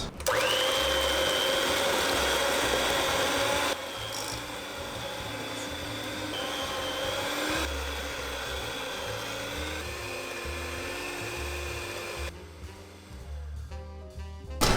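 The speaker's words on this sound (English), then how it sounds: "So the next thing really is to whisk for about 2 minutes." An electric mixer whisks apple and cinnamon cake batter, a loud, steady motor whine with shifting pitch as speeds change and the beaters work the bowl, stopping near the end, no speech.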